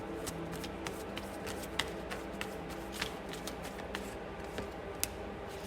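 Tarot cards are shuffled by hand, a soft steady riffling and rustling with occasional sharper taps and snaps as cards hit the pile, quiet and close.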